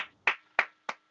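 Four sharp, evenly spaced hand claps ring out alone, crisp and close, each decaying quickly into silence, like a brief round of applause.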